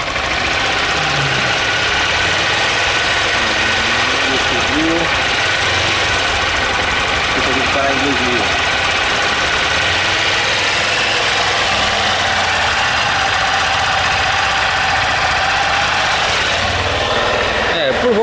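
Honda Titan 160 motorcycle engine held at a slightly raised idle around 1600 RPM, a loud, steady close-up running drone throughout with a voice speaking over it.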